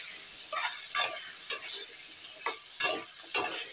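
Egg curry sautés in spice paste in a pan, with a constant close sizzle and several distinct scraping stirs every half second or so; no talking.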